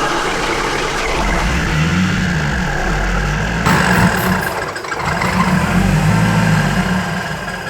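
A car engine runs steadily after repairs and timing adjustments, a rough, continuous low rumble with a slight surge midway, close and without talk.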